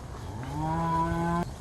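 A cow grazing in a pasture lets out one clear, drawn-out moo, close and loud, over a low outdoor background.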